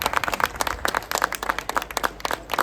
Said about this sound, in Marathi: या सगळ्या आपल्या मैत्रिणींसाठी जोरदार टाळ्या व्हायला पाहिजेत.